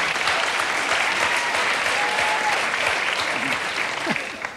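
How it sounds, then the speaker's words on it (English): Studio audience applause during a televised stupid pet tricks segment, a loud full burst of clapping that holds steady throughout and tapers slightly at the end. "You're applauding for the dog's birthday?"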